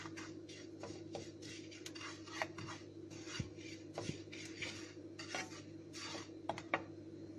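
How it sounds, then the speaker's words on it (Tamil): Grated coconut is stirred as it roasts in a pan, with a quiet, steady run of scraping strokes and small metallic clicks from a utensil against the pan. The sound is faint and close, with no voices. "லைட்டாக கலர் மாற வரைக்கும் மட்டும் கிளறி விடுங்க."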